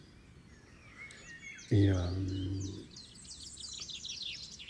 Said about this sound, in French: là je viens d'avoir un oiseau. Il me semble que c'est un troglodyte mais je suis pas sûr.